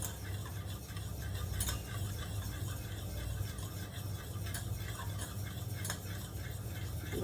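Curd being whisked into milk in a bowl for setting thick homemade curd, a steady continuous swishing and scraping churn, close and even throughout, with a few faint clinks and no talking.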